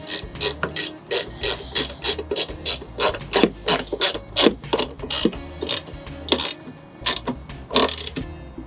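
A ratchet wrench tightening a D-ring on a Sprinter van B-pillar mount, loud close clicking in rapid repeated bursts, the rhythm of back-and-forth strokes continuing steadily throughout.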